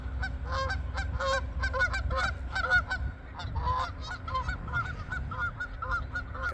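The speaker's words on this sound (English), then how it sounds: "Got the geese flying into the pond." Geese honk repeatedly as they fly in to a pond on a Kansas ranch in March, a dense overlapping chorus of calls at moderate distance, continuous throughout with a slight lull midway.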